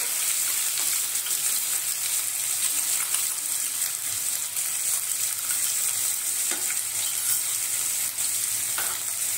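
One finely chopped medium onion sautés in a pan for a Kokan-style val bean curry, a dense continuous sizzle with faint occasional stirring scrapes, close and steady with no talk.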